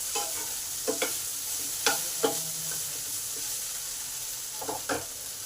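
Potatoes fry steadily in a pan, a soft continuous sizzle broken by several sharp spatula scrapes and stirs at irregular intervals, close and moderately quiet.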